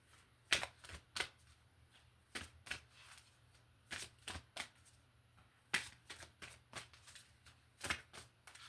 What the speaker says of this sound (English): Okay, so I'm going to shuffle 2 more times.